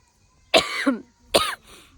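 Two sharp coughs about a second apart, close and loud, with quiet between them.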